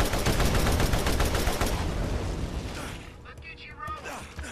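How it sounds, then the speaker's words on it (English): Rapid assault rifle fire against Mothrakk in Borderlands rattles loud and dense for a few seconds, then thins into scattered shots and rumbling impacts as the barrage fades. "you start firing at Mothrakk with preferably like an assault"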